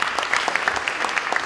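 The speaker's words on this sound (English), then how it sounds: "spontaneous round of applause?" Spontaneous applause from a small group at a Zorah Wines grand terroir tasting, a brief run of close, distinct hand claps in an uneven rhythm.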